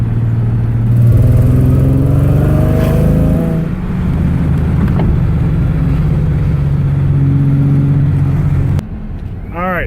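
A supercharged 1995 Ford Thunderbird SC engine revs hard and steady under boost with rising harmonic whine, loud and close, easing off near the end as the pitch drops.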